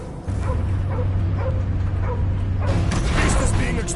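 Cosmo the dog whimpers and yips in the Guardians of the Galaxy video game, a series of short, repeated whines over a low mechanical hum and game noise, with a voice coming in near the end.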